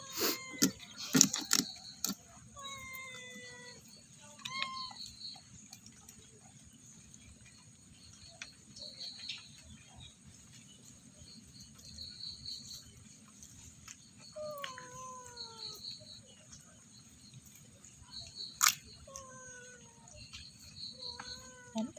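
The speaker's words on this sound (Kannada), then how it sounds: "ಮೂರು ಬೆಕ್ಕುಗಳು ಹಾಗೆ ಒಂದು ನಾಯಿ ಕಾಯ್ತಾ ಇದೆ ತಮ್ಗೆ ತಿನ್ಲಿಕ್ಕೆ ಸಿಗುತ್ತೆ ಅಂತ" Three cats meow repeatedly while waiting as crab is cut, their calls coming in short clustered bursts of rising and falling cries, fairly close, over a quiet background with occasional clinks.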